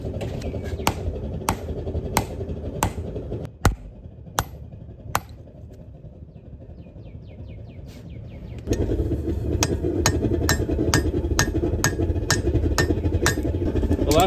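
A hammer strikes the back of a hand-forged steel chisel resting on a wooden stump, sharp ringing blows in irregular runs, close and distinct over a background hum that rises partway through.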